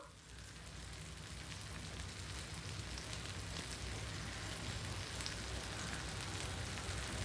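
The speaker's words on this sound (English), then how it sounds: "You can clearly hear the sizzle now." Steady, close sizzling of marinated chicken frying in oil on foil heated by a clothing iron, a continuous crackling hiss with small pops, no voices.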